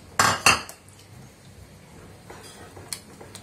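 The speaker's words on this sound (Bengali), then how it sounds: "ব্যাস আমটাকে মিক্স করে দিচ্ছি" A utensil stirs mashed mango paste in a dish, starting with two sharp metallic clinks against the dish, then quieter scraping and a few faint taps, all close by.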